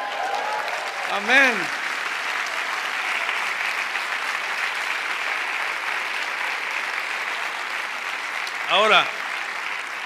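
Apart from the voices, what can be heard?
congregation applauding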